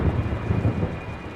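A deep rumbling roll of thunder, loud and close, with a low heavy boom that tapers slightly over a second or so.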